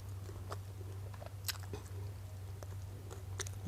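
Someone eats som tam papaya salad with crab and fermented fish, chewing close to the microphone in faint, irregular moist crunches and bites over a steady low hum.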